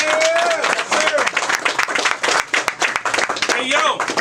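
Crowd clapping and cheering at a rap battle, close and loud, with rhythmic bursts of hand claps, whoops and excited voices shouting over them throughout.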